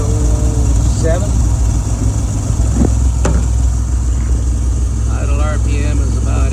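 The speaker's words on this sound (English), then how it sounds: "Idle RPM is about 800." A car engine idling at around 800 RPM, a steady low rumble that holds even throughout, with voices talking over it now and then.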